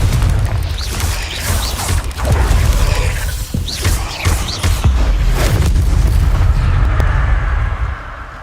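Confringo fire-blast spells explode over and over in a Harry Potter video game, loud booming impacts and crackling bursts following one another closely against a continuous rumbling combat background.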